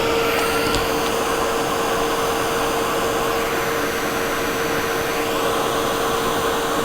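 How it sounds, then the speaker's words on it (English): A heat tool blows hot air steadily onto shrink plastic while the front half of a small 3D goldfish charm is warmed. The whooshing hum is loud, close and continuous, with a faint tonal whine and no talking. "by holding it with the stick, I can sort of guide the heat tool towards the front"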